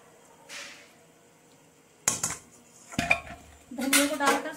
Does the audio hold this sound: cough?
no